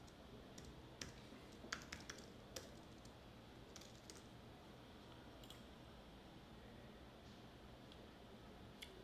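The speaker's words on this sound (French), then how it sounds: "je vais sur Pinterest et je tape comment gagner de l'argent" Keys clicking on a computer keyboard as a search is typed into Pinterest, faint and irregular against a low background hum with no talk.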